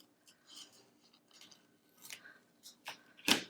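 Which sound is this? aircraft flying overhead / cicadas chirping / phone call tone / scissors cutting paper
scissors cutting paper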